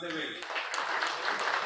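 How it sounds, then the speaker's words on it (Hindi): Audience applause at a public memorial gathering, scattered claps building into a fuller round right after a voice finishes speaking. "तालियां बजाइए जोर से वे"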